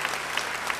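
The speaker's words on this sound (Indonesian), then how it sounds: "Beri tepuk tangan yang baik untuk yang percaya." Applause from a church service audience, a brief burst of dense, even clapping from many people, fairly close and without talk.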